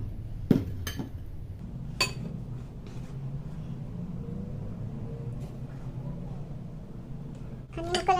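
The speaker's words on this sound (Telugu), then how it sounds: "మొత్తం అంతా అన్ని ముక్కల్ని ఇలాగే కలుపుకోవాలి" Mango pickle pieces are mixed in a bowl, with a metal spoon clinking against the dish now and then over a steady low background hum and brief moments of a voice nearby.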